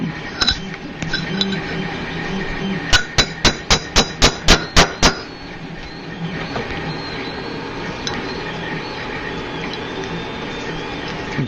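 A hammer strikes a copper bangle bracelet on a metal bracelet mandrel. After a few scattered taps come eight crisp, evenly spaced metallic blows in a quick run, then quieter handling noise and soft scraping.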